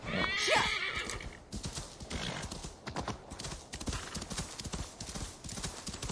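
A horse in Assassin's Creed Valhalla whinnies loudly at the start, then its hooves clip-clop in a steady rhythm close by, with faint game ambience underneath.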